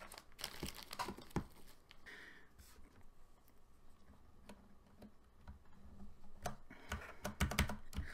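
Keycaps being pressed onto the bottom row of a Ducky One 2 Mini keyboard, giving a run of close, irregular clicks and plastic snaps with brief rustling, fairly quiet and without talk.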